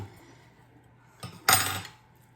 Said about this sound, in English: we're gonna take our roast over here and we're gonna cut this up and put it back in